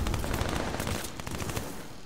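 Dense, continuous game gunfire, pistol rounds among it, with rapid overlapping shot bursts at steady loudness and no talk.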